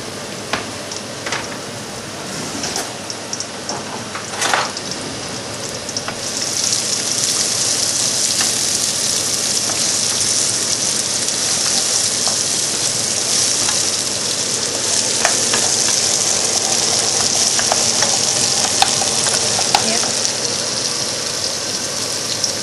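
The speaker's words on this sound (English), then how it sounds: "And then you add the onions such that it becomes translucent, not fried but translucent." Garlic and onions sizzle steadily in hot olive oil in a pan, a dense, continuous frying hiss that swells louder partway through, with faint stirring clicks and no voices.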